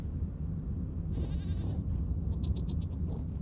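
Goats in the survival game Vintage Story give a quick run of short, bright bleats near the end, over a steady low ambient rumble with no talking.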